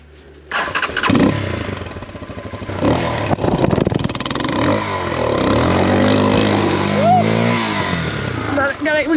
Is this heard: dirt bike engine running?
yes